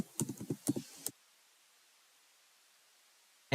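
A short burst of quick, light keystrokes on a computer keyboard as a password is entered on a Windows 10 login screen, then near silence, with one last key tap at the end.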